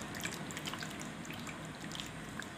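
Homemade butter being washed by hand in a bowl of water while making ghee, giving faint, soft water sloshes and scattered light drips, low and steady throughout with no talking.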